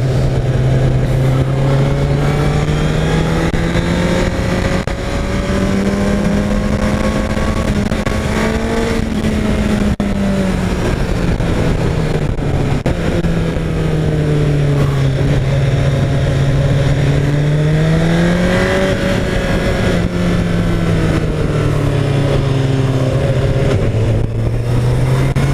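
A Honda CBR 1000 RR Fireblade motorcycle ridden on the Interlagos racetrack: a loud, continuous engine drone close up, with pitch rising and falling through gear changes and throttle swells, plus steady wind roar.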